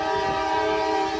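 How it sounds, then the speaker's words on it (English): A train rolls over newly repaired and replaced North Track rails in East Palestine after a derailment, on a wet day, with a steady, loud, continuous rumble and sustained tonal hum that never lets up. "First train that they've operated on the North Track since the accident."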